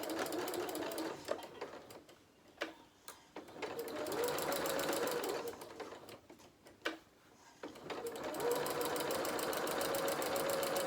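A domestic sewing machine runs in bursts, stitching the body and limbs of a Bramble Bear soft toy, its fast rattling needle sounding close and clear, stopping briefly between seams with no talk.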